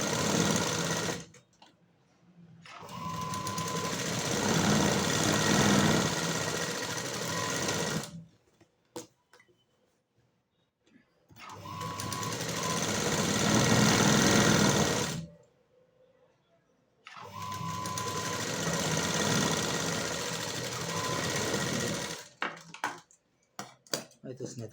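Sewing machine stitching the side seams of a blouse, running in three long steady bursts separated by short pauses, close and clear with no talk.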